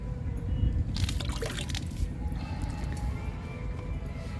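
Liquid fertilizer is poured into a can, a close gurgling, trickling stream with a low rumble, louder splashing in the first couple of seconds then steadier filling.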